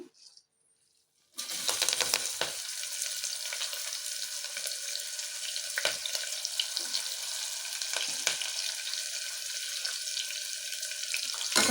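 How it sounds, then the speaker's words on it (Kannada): Curry leaves, cumin, green chilli and finely chopped onion hit hot oil after a short near-silence, bursting into a loud, steady frying crackle that carries on close-up with occasional sharper pops. "ಎಣ್ಣೆ ಬಿಸಿ ಆದಮೇಲೆ ಕರಿಬೇವು ಜೀರಿಗೆ ಗಡ್ಗೆ ಮೆಣಸಿನ್ಕಾಯಿ ಸಣ್ಣದ ಕಟ್ ಮಾಡ್ಕೊಂಡಿರೋವಂಥ ಒಂದು ಈರುಳ್ಳಿ ಇದಿಷ್ಟು ಹಾಕ್ತಾ ಇದ್ದೀನಿ"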